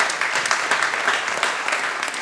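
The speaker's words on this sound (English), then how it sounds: "Give them a round of applause." A crowd at a blockchain conference in Seattle applauds a sponsor, steady sustained clapping from many hands filling the room at even loudness.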